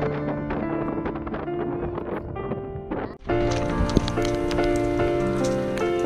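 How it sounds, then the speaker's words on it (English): Rain begins falling on a sailboat's cabin deck coated in Kiwi Grip, a steady broadband patter of drops close by that swells louder and denser partway through, with a few sharper knocks over the hiss. "The hard rain splattered the Kiwi Grip and washed away most of it from the cabin."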